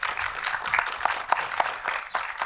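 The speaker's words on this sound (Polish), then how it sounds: "Wielkie brawa." A debate audience applauds its guests with a light, fairly sparse round of clapping. Individual hand claps are distinct and come at an uneven pace throughout.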